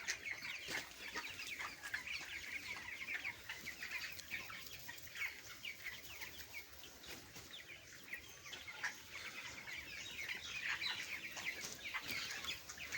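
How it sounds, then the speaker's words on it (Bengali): Many broiler chickens in a farm shed cluck and chatter continuously, a dense, fairly quiet chorus of overlapping calls with no voices. "দেখেন আমার মুরগিগুলা"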